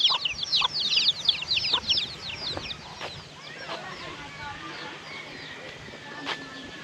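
Several chickens cluck and chatter close by in a quiet rural village, a dense run of short calls at the start that thins into scattered clucks, with a voice talking over part of it.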